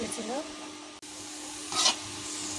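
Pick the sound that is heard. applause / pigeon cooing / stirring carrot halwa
stirring carrot halwa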